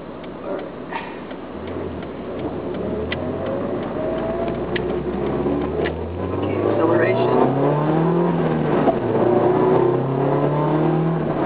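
A Nissan Silvia S15 Autech engine revs and pulls through the gears while driving, rising and falling in pitch, loud and close inside the car, with a voice talking over it.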